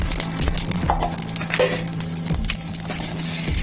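Cumin seeds sizzle in hot oil as they are stirred, a continuous crackling fry with scraping stirs and light clinks of the utensil, up close and without voices.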